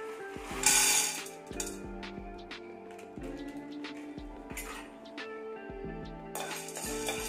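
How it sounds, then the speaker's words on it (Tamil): Roasted gram (pottukadalai) poured out of a hot pan while making a health powder mix, a run of light rattling clinks and scattered ticks of small dry pieces tumbling out, close and moderately loud. "பொட்டுக்கல்ல மட்டும் இது எடுத்து கொட்டிடலாம்."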